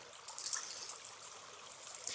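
Shallow water running gently through a gold sluice while prospecting for placer gold in California's Mother Lode country, a soft steady trickling hiss with small splashes, close by, no talk.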